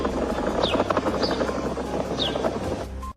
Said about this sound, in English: It literally sounds like a helicopter